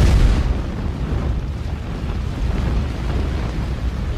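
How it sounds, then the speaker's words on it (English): A dense, roaring rumble of demolition explosive charges detonating in sequence across building columns, loud and sustained, with a heavy low boom at the start and no voices. "Explosions speed across the columns, cutting them, creating the notch."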